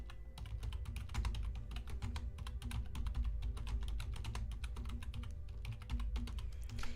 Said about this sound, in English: pardon my loud typing.